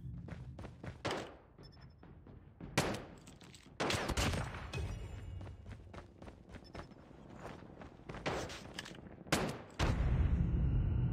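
Gunfire from the Call of Duty Mobile video game comes as scattered sharp shots and short bursts over about eleven seconds, with thuds and footsteps between them, all at a fairly low level.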